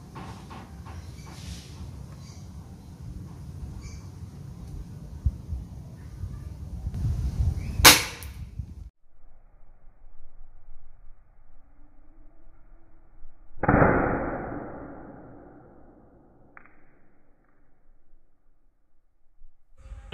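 KAC PDW Bison replica airsoft gun by Dcobra M301 fired during a 25-meter range test, with a sharp shot near eight seconds and another crack around fourteen seconds, each followed by a brief fading ring, amid quiet outdoor background.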